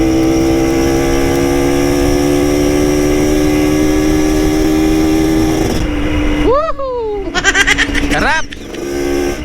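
A dual-sport dirt bike rides along a road into Barangay Upagan, Butuan City, its steady engine drone holding close and loud before easing off, with people talking over it.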